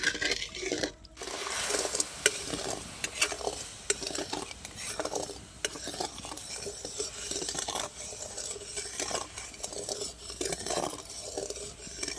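Sugarcane jaggery syrup bubbles and sizzles in a pan on medium heat while a utensil stirs it in repeated scraping strokes, close and steady, with no voices.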